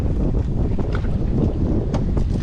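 Strong southwest monsoon wind buffeting a fishing boat at sea off Palawan, a constant loud roar and rumble of wind against the microphone with no break.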